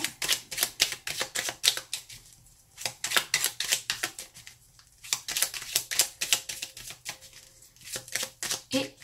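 A deck of tarot cards is shuffled vigorously, producing rapid bursts of crisp riffling and flicking that come in several runs with short pauses between them, close and clear with no talking.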